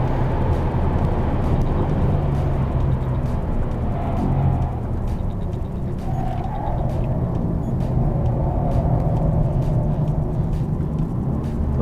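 A Mercedes-AMG GT engine drones steadily and loudly from inside the car as the throttle is lifted during a track test, with a dense rumble and no clear pauses.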